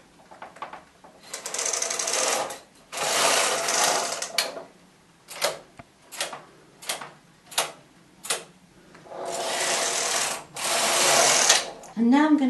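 Knitting machine carriage swept by hand across the needle bed for single rows, heard as several separate whirring, clacking passes of a few seconds each with short pauses between, close and moderately loud, no talking.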